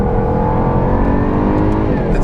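A 2016 Jaguar F-Type R AWD Coupe engine on a track, a loud, close, continuous roar with its pitch shifting as the driver changes gears and heads into a chicane.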